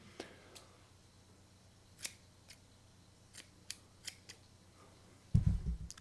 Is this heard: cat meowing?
no